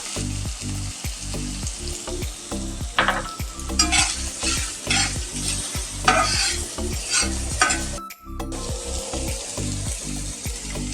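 Chopped carrots and beans stir-fried in a hot pan for a chicken momo filling, heard as a loud, continuous sizzle broken by brisk, rhythmic spatula strokes, close up and without speech.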